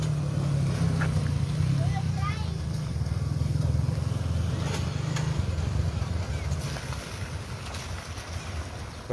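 A motorcycle approaches along a street in Las Varas, Nayarit, Mexico, with a steady low engine drone that runs through most of the clip under continuous background noise, while people talk nearby.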